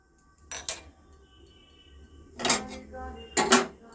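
A few metallic clanks and scrapes of a wok being set down and shifted on the stove, three short bursts separated by quiet moments.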